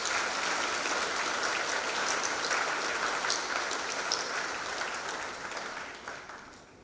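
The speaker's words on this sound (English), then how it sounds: "So may I ask everybody to applaud our graduates." A large crowd at a graduation ceremony in the Seychelles applauds steadily in a dense, continuous wash of clapping that gradually fades toward the end.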